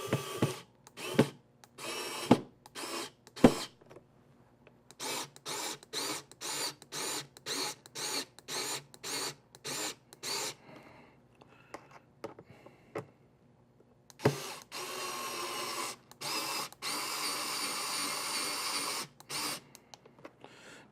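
A power drill drives screws into unthreaded holes during a Cobra upgrade, in repeated short whirring bursts followed by longer sustained runs, fairly close with no talking.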